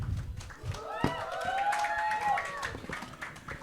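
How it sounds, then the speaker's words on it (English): Audience applause at a media workshop, a crowd clapping steadily for a few seconds with cheers rising over it and some talk mixed in. "Round of applause to him."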